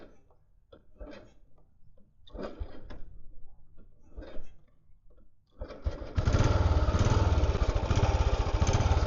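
A 2003 Royal Enfield Bullet, a vintage ex-army motorcycle, catches after a few kick-start attempts and settles into a loud, steady idle; scattered knocks and rustling come before the engine fires.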